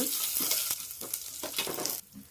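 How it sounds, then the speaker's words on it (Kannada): Mustard seeds, dried chillies, curry leaves and cumin crackle and sizzle in hot oil for a taro root sambar, stirred with quick scraping strokes, loud and close, no voices. "ಸಾಸಿವೆ ಹಾಕ್ಕೊಳ್ಳೋಣ, ಒಣಮೆಣಸಿನ್ಕಾಯಿ ಹಾಕ್ಕೊತೀನಿ, ಕರಿಬೇವು, ಜೀರಿಗೆ ಒಂದು ಅರ್ಧ ಸ್ಪೂನು, ಸ್ವಲ್ಪ ಮಿಕ್ಸ್ ಮಾಡ್ಕೊಳ್ಳೋಣ"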